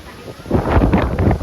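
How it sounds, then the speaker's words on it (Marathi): Gusty seashore wind buffets the microphone in low, rumbling bursts that swell and build over a moment. "वारा पाऊस तर नाही पडत पण वारा भरपूर सुटलाय दिसता सोसाड्याचा वारा"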